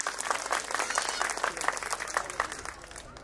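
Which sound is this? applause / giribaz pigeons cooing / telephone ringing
applause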